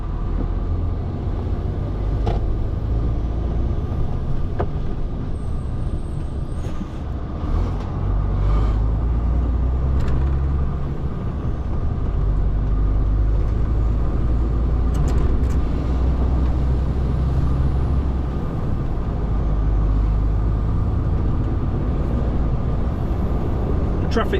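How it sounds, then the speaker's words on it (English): Road traffic rumbles past while driving on a delivery run to Leeds near schools, a steady, loud low drone of tyres and engines that surges slightly around the passing vehicles and never fades. "Traffic seems to die down a little bit"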